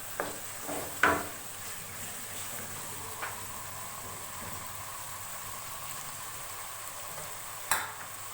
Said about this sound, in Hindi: टमाटर को चिकन में शामिल करने के बाद भी तकरीबन 5 मिनट तक भूनेंगे